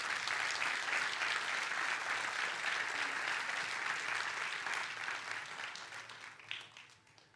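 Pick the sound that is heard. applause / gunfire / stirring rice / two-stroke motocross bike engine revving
applause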